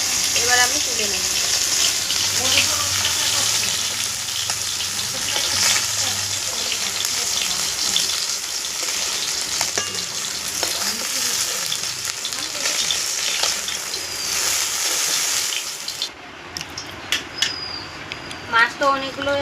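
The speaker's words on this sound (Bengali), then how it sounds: "মাছগুলোকে সবগুলোকে ভেজে নিচ্ছি" Small bhola fish sizzling as they fry in a pan, a steady crackling hiss running throughout with occasional stirring and faint background voices.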